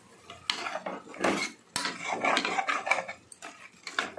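Boiled mutton head curry is stirred in a pot, with repeated scraping and clanking of a spoon against the metal in uneven, close strokes.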